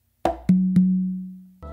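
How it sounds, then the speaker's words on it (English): A sharp close slap on the conga followed by two open tones on the tumba, the opens ringing with a sustained resonant pitch that slowly decays before another hit begins, close and clear with no talk. "another close slap with your non-dominant hand on the conga, and then 2 opens on the tumba with your dominant hand"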